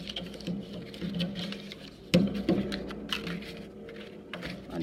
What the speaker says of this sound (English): Then I'm also going to score these tabs.